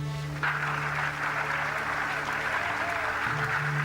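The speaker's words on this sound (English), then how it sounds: "An extremely loud applause here in Mission Control." Loud applause erupting in Apollo 13 Mission Control as the spacecraft descends on its main parachutes, a steady roar of clapping over a hum of room and radio noise, with voices talking beneath it.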